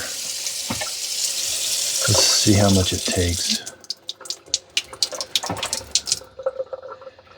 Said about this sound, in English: let's fill this up with water